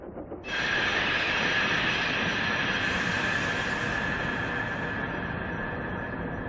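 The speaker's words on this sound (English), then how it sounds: "The sound of Thomas's brakes has changed again." Train brakes grind and squeal loudly and continuously in a quarry, a harsh metallic screech echoing with a broad rushing roar that lingers throughout.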